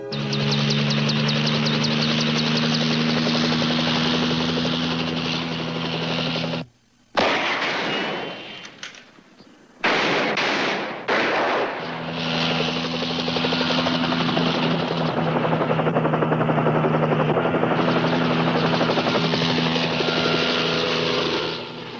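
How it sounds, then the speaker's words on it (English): A helicopter roars close and loud with heavy rotor chop, briefly dropping out and cutting back in mid-clip before thundering on steadily again, no voices over it. "the copter might be able to fulfill its mission"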